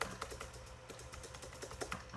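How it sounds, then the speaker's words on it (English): Quick, light tapping on a computer keyboard while entering text into a chat box, steady irregular keystrokes close by and fairly quiet, with no talking. "I will go ahead and type it in the chat box"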